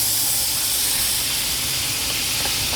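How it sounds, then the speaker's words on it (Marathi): Butter sizzling in a hot kadhai, with a steady, loud hiss that holds without a break and no voices. "इथे मी परत कढई गरम करत ठेवली आहे. मखाणा चांगल्यापैकी थंड झाला आहे. आता ह्याच्यामध्ये मी 2 टेबलस्पून बटर घालते."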